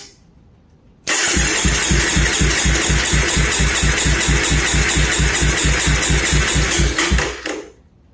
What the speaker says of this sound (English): Hold the starter button down until the needle on your gauge stops climbing